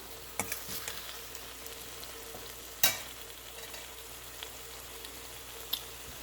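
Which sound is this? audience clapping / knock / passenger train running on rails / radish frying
radish frying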